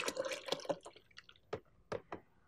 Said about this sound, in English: First, you pour in some milk.